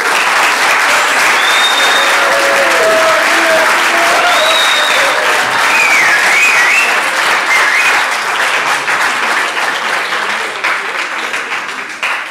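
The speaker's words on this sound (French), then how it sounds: "veuillez faire un tonnerre d'applaudissements pour Arthur" An audience at a French eloquence contest claps loudly and steadily for over ten seconds, a dense roar of applause that tapers off slightly toward the end, with faint voices underneath.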